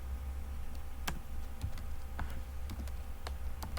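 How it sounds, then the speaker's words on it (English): Typing on a computer keyboard while coding, with a steady run of sharp, uneven key clicks and a few louder taps, close and alone without talk. "I don't know why typing gets hard when you're in front of a camera when you are doing a presentation"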